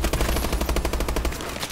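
Rapid full-auto gunfire from the KF5 Breakneck in Call of Duty, a close, steady stream of fast shots lasting most of the moment before cutting off.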